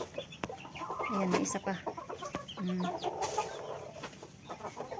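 Several hens cluck and murmur close by in a crowded chicken nest, soft repeated calls and short squawks, with a person speaking briefly over them.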